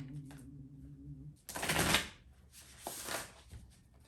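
Oracle cards are shuffled by hand in two brisk riffling bursts, close and crisp, following a quiet stretch with a low hum at the start.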